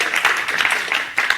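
An audience at a university chemistry department event bursts into brief applause, a dense patter of many hands clapping at moderate volume that swells again just before it ends.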